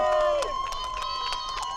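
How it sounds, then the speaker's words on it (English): Supporters of a paddleboard racer cheer and shout at an ICF SUP World Cup sprint finish, a lively crowd with whoops rising over steady background noise and voices. "He's got Team Sup cheering him on"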